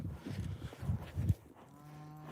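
A cow moos on a ranch, a low, drawn-out bellow with a steady tonal hold near the end, close and loud against quiet surroundings with no talk.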